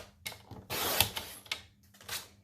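A paper cutting tool slices through a sheet of Blackberry Bliss cardstock in several short, rasping strokes with brief pauses between them, close by and fairly quiet.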